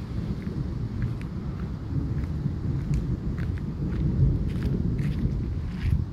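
A strong thunderstorm on 18 September 2023 rumbles low and steadily, with deep rolling thunder and gusty wind noise buffeting the microphone, and faint crackles above.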